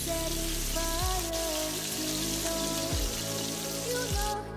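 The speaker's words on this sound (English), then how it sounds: "I'm just gonna saute my onions for 30 seconds before adding my garlic" Chopped red onions sauté in a hot pan for a chicken adobo, giving a steady, close crackling sizzle like light rain with a few soft low knocks, no voices.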